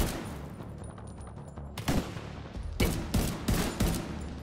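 Bursts of SCAR rifle fire in The Division 2: a first volley, then a rapid string of loud, close shots over steady background noise from the game.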